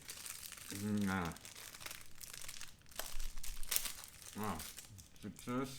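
Plastic wrapping on a quarantine breakfast crinkles and rustles in close bursts as it is pulled open, with a person talking in between.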